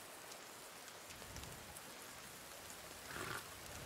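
Rain falling in the survival video game The Forest, a steady soft hiss of rainfall filling the scene without pause, fairly quiet, with no talking.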